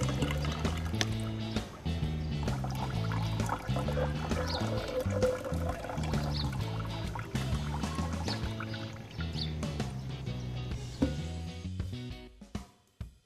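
Hot water poured over gold sludge recovered from CPU scrap to rinse away chemicals, a continuous splashing pour with bubbling gurgles, close and fairly loud, ending abruptly.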